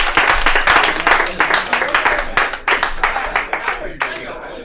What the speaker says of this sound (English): Give a round of applause for our next comedian, Robert Rule